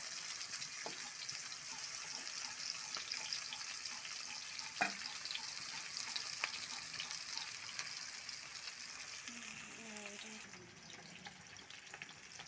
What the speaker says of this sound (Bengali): মাছগুলো এবার এক এক করে ভেজে নিই